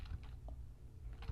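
Computer keyboard typing during a OneNote 2016 session, heard as a few soft, scattered keystroke clicks over a steady low hum.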